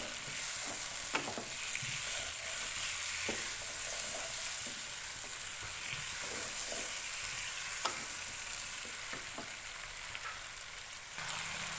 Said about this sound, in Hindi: दो 3 मिनट मैंने आलूओं को फ्राई किया है